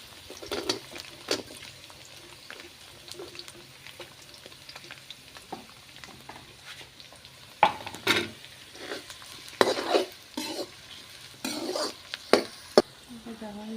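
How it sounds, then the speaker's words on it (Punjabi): Onions fry with garlic in a pan for ridge gourd sabzi, giving a steady soft sizzle. Repeated scraping and clinking stirring strokes grow louder and busier in the second half, and there is no talking. "ਪਿਆਜ਼ ਆਪਣੇ ਭੁੱਜ ਰਹੇ ਹਨ"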